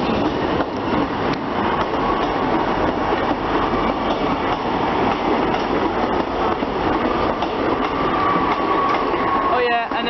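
A Great Western Railway diesel multiple unit train rumbles past at a Devon station, a loud steady mechanical roar with wheel clatter and a rising squeal near the end.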